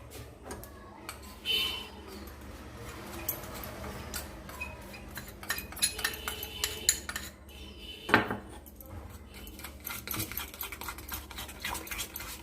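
A whisk clinks and scrapes against a bowl while powdered sugar is beaten into cake batter, with irregular near taps and rattles that come in quick clusters, one sharper knock standing out midway.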